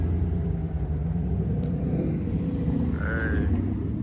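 Dodge Hellcat with a supercharger and full carbon rear bumper, its engine giving a steady, loud low rumble that holds through the whole stretch, with a brief higher whine near the end.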